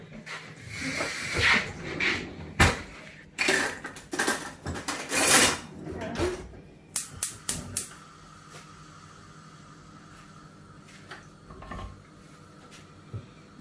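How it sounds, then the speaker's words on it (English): Sloppy joe mixture with onions being stirred in a pan, heard as loud clattering spoon-on-pan scrapes and knocks for several seconds, then fading to a quieter low sizzle. "So I'm just going to stir this around now."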